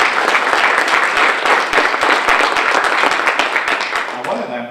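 Audience applause at a Joomla conference opening keynote in Florida, a dense, steady round of clapping from a large crowd that tapers off toward the end, with some voices mixed in.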